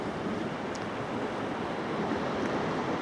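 Sea waves wash steadily at the end of St Andrews pier, a continuous broadband surf hiss with gusts of wind noise on the microphone, no voices.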